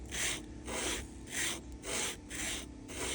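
Sanding burrs off a machined button on a 320 grit sanding pad: close, soft rasping strokes in a steady back-and-forth rhythm, five or six passes, quiet and without talk.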